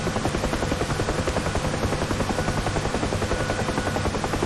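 Helicopter climbing after takeoff in a flight simulator video game: a loud, steady rotor thump with a dense, continuous engine roar throughout.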